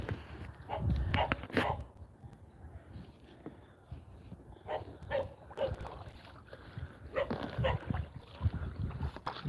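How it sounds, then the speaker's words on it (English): Dogs bark from the riverbank at a passing boat on the Pranburi River, Thailand, in short bursts at a moderate distance, scattered irregularly, with some quieter yips and murmured talk between them. "They're gonna bark at us because we look different."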